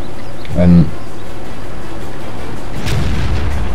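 A T92 self-propelled artillery gun firing in a tank battle game, one sharp booming shot early on, then a rumbling low impact a few seconds later, over a steady background hum.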